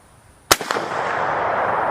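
A single rifle shot fired with surplus tracer ammunition gives one sharp, loud crack. A brief echo follows, then a steady hiss of room tone.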